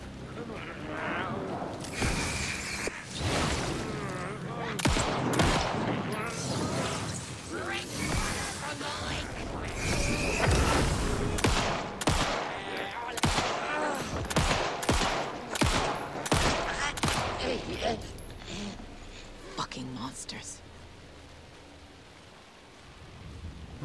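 Rapid bursts of gunfire in the video game Alan Wake 2, with repeated sharp shots through much of the clip, loud and close over a rumbling, stormy game background, with speech in between.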